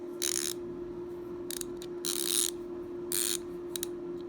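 A ratchet from a 50-piece screw extractor and left-twist drill bit set clicks in four bursts of rapid pawl ticking, close and fairly loud, separated by short pauses over a steady low hum.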